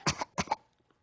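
Two harsh coughs in quick succession, close and fairly loud, followed by near silence with only faint trailing noise.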